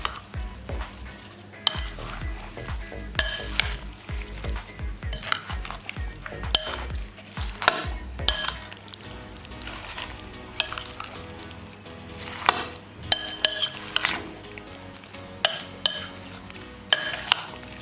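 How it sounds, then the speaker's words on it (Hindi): Fruit chaat ingredients being stirred together in a bowl with a utensil, giving repeated soft scraping and clinking strokes that stay close and steady throughout. "तमाम चीज़ों को अच्छे तरीके से मिक्स कर लेंगे।"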